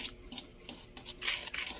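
Puto cheese batter stirred with a utensil, a series of quiet scraping and clinking strokes against the bowl in an uneven rhythm, close up with no voices.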